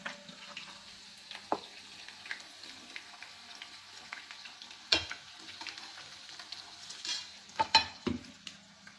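Curry leaves fry in a pan of herbal hair oil, giving a faint, steady sizzle broken by a few sharp stirring clinks and taps, close by and quiet.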